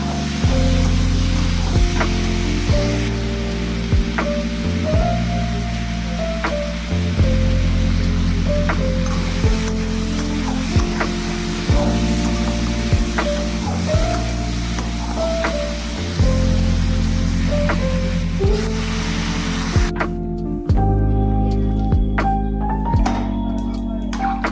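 Water boils in a pan of potato and soybean curry, giving a loud continuous bubbling hiss close by that carries on steadily throughout.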